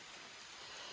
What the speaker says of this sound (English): it is starting to rain a little bit more